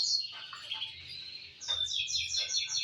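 Canaries, including Yorkshire and similar show breeds kept for sale, chirp and trill in rapid bright phrases, several birds calling close by in overlapping bursts with no talk.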